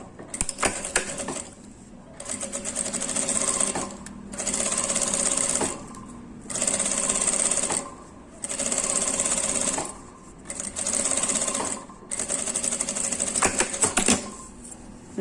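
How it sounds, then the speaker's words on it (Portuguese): Sewing machine stitching a seam over earlier stitching on fabric, close and clear, running in five or six bursts of a few seconds each, with short pauses between them. "E eu posso fazer uma costura em cima dessa que eu já tinha feito anteriormente."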